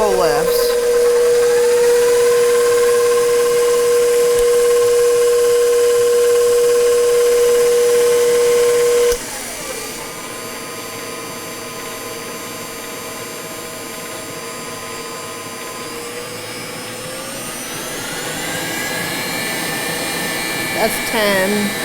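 A KitchenAid Professional HD stand mixer motor runs with a loud, steady electric whine. Its pitch drops and softens partway through, then rises again near the end.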